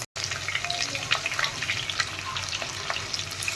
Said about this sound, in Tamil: அந்த வெங்காயம் நல்லா எண்ணெயிலேயே நல்லா வதங்கி பொன்னிறமாக மாறட்டும்